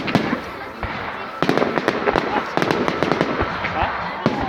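Bonfire night fireworks display with a rapid series of sharp cracking bangs, some close and loud, others quieter and overlapping, popping irregularly throughout; voices can be heard in the background.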